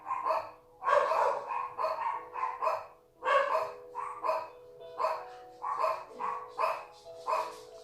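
Dogs barking repeatedly indoors in a rapid, loud series of barks with brief pauses, some yips mixed in, close to the listener.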